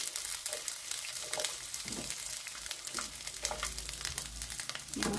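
Chiles de árbol, garlic cloves and chunks of onion fry over low heat in oil, giving a steady close sizzle with crackling pops and occasional stirring scrapes throughout, no voices.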